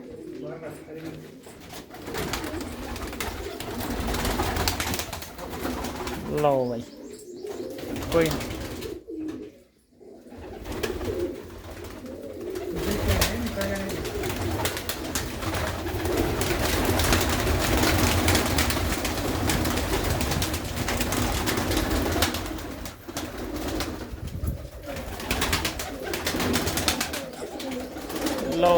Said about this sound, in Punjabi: ਆਪਾਂ ਇਹ ਕਬੂਤਰ ਜਿਹੜੇ ਟੈਡੀ ਨੇ